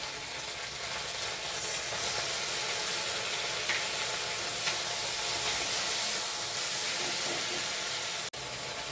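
Tomato paste hits hot oil with ginger and cumin paste while Bengali chana dal is being cooked, giving a steady, close, continuous sizzle and hiss that holds evenly throughout, with a brief dip near the end.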